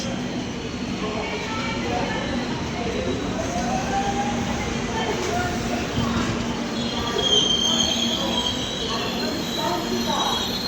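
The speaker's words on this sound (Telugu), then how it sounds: "ట్రైన్ చాలా స్లో అయిపోయింది" MGR Chennai superfast express, train 12163, slowing down on the run from Tadipatri to Renigunta, heard from on board as a steady rumble of wheels and carriages with faint squeals, continuous and fairly loud throughout.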